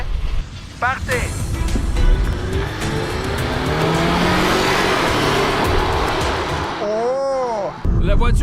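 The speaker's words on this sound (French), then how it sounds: "La voiture est partie quelque part" A radio-controlled car launches off at the start of a race against a sports car, its motor whining loudly and steadily throughout with tire noise, while excited voices call out over it near the start and end.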